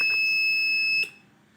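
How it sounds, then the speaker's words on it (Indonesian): A loud, steady electronic alarm buzzer tone from an Arduino-based automatic transfer switch power-failure alarm sounds continuously, then abruptly stops, leaving quiet room noise. "maka buzzer juga tidak akan berhenti berbunyi"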